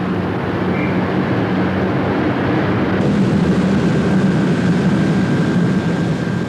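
A night mail train of three vehicles running from St Pancras to Derby, heard as a loud, steady rumble and roar close by, with a faint tone that shifts partway through and no voices.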